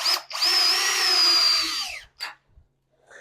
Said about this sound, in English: when you're starting your screws in